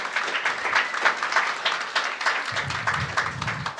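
At a resident assembly, an audience gives a soft, steady round of applause that continues throughout, heard from a distance with no voices on top.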